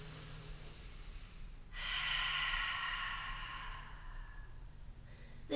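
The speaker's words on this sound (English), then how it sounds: "One more breath" A slow deep breath drawn in and released during a Pilates mat exercise, soft and close, with a long airy exhale rising midway and fading out, no talking.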